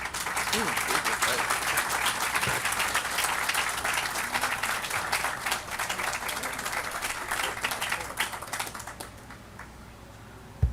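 Applause from a press conference audience for the Green Heart Project, dense sharp clapping that goes on for about ten seconds and thins toward the end, with a single loud hit at the close.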